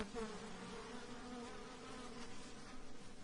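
Anatolian honeybees buzz steadily at an open hive, a dense, continuous hum heard close and fairly quiet with no talking.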